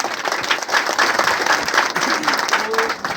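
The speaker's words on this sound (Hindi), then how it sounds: "एक बार जोरदार ताली प्रहलाद जी" A crowd at a celebration program gives hearty applause for a guest, dense clapping close and loud throughout with some voices murmuring underneath.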